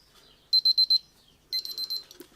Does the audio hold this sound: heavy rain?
no